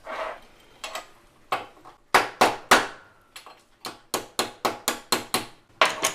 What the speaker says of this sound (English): Flatten this out with the hammer a little bit